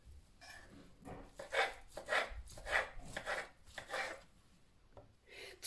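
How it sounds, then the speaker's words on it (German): Knife chopping thin egg crepes into small pieces on a board, a series of soft, fairly regular cuts at close range, no speech. "Die beiden Eierfladen habe ich hier, die schneide ich in auch kleine Stücke."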